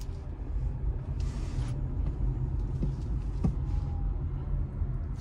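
A Hyundai Ioniq 5 electric car accelerating, heard from inside as a low, steady road and tyre rumble with a faint high whine and a few soft knocks, no engine note and no speech.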